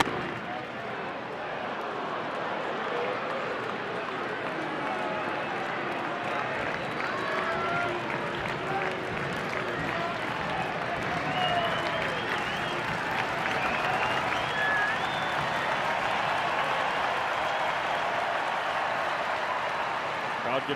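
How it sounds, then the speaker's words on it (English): A baseball stadium crowd at a Diamondbacks at Cubs game keeps up a steady, loud roar of cheering throughout, with a broadcaster talking over it. "Crowd getting loud, and Corbin Martin can't hear."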